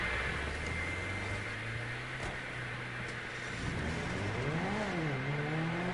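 An Audi engine in a video game revs continuously, a steady drone that climbs and wavers in pitch toward the end, loud and close with no talk over it.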